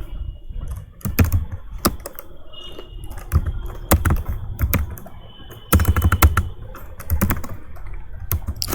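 Keys clatter steadily on a computer keyboard in irregular bursts and pauses, close and fairly loud, while a user works in a code editor building a site component.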